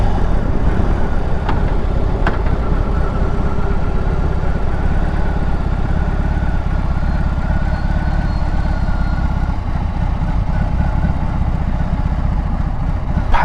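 A BMW R18 B motorcycle engine gives a steady, loud, low rumble throughout, continuous and even, with wind or road noise over it.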